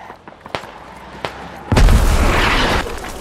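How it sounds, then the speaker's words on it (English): Airstrike in the Squad video game, Russian Army on Yehorivka: a few sharp distant thuds, then a heavy, close boom that rolls on for about a second before fading. "Airstrike, guys"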